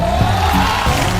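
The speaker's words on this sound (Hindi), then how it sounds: "और प्लीज आमिर खान के फैंस फॉर दंगल ताली बजाएं।" An audience of Aamir Khan fans at a televised comedy award show bursts into loud, dense applause and crowd noise. It is a brief, steady wash of sound with no pauses.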